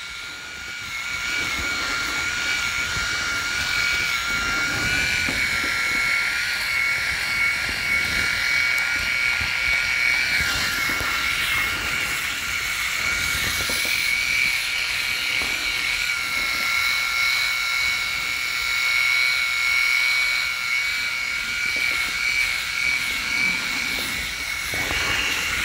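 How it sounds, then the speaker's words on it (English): A Remington RX5 electric shaver buzzes steadily and loudly up close while shaving a head, its high whine holding constant for a long stretch with slight shifts in tone. "Now to get that a little bit closer to, a bit closer shave"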